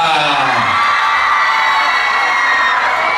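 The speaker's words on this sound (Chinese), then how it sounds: "再给我们所有老师团队掌声尖叫一下。" Middle-school students at a campfire evening during a camping trip erupt in loud, sustained cheering, screaming and applause from a large crowd, continuous and close throughout.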